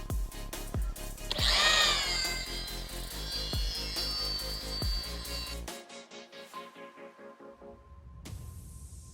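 Polishing machine running at second speed to gently warm lacquer on a painted model. A whirring motor comes with periodic sharp taps and shifting pitch, then drops to a quieter, thinner hum partway through.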